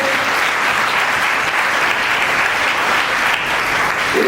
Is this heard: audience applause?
yes